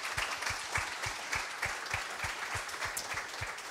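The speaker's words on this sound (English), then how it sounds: "everybody, a round of applause for Amy Gallacher." A live podcast audience applauding a guest footballer, steady moderate clapping from a smallish crowd, fairly even throughout and slightly distant.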